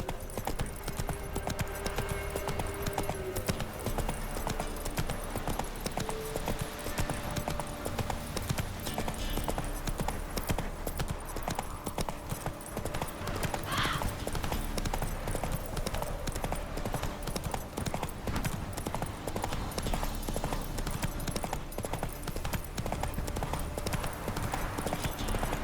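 Horse hooves clip-clopping steadily from Geralt's horse Roach in The Witcher 3: Wild Hunt on PS5, a continuous rhythmic trot under a dense game soundscape that persists throughout.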